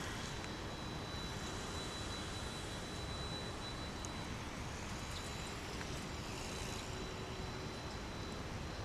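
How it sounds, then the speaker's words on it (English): A UPS Boeing 767 cargo jet on final approach at Dallas-Fort Worth International Airport gives a steady, broad engine roar that stays level and fairly distant throughout, with no talk. "767, which is on final approach now to the UPS cargo facility here at DFW, Dallas-Fort Worth International Airport."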